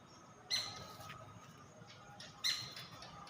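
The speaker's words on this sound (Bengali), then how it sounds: "পাখি ডাকতেছে।" A bird gives two short, sharp calls a couple of seconds apart against quiet ambient noise.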